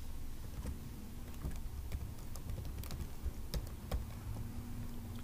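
Typing on a computer keyboard, a steady patter of small key clicks with a few louder taps, close and continuous over a low background hum, no voices.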